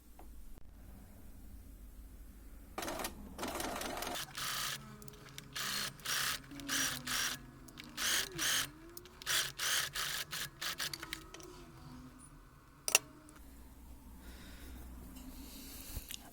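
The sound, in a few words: sewing machine stitching a wrist cuff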